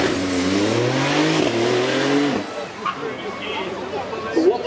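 A 992 with a 3.8-litre twin-turbo flat-six drives past at a supercar event, its engine note climbing in rising tones before dropping away. Crowd noise and voices sit underneath.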